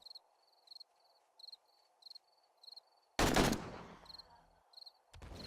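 Enemy gunfire in the 7 Days to Die video game: a single loud, sharp blast with a decaying tail, then a second burst, set against a regular chirping, cricket-like ambient pulse.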